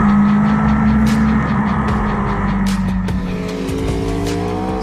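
A 2019 Aprilia Tuono V4 1100 Factory roadster with a 65-degree V4 engine roars loudly and continuously while being ridden, its tone shifting slightly as it goes, with no talking.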